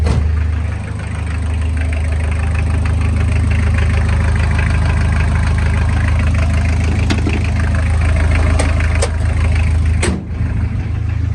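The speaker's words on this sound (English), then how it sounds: "it's kind of cold, so got a little bit of a cold start for you" Car engine idling on a cold day just after a cold start, a loud, close, steady low rumble with a brief dip and clunk near the end.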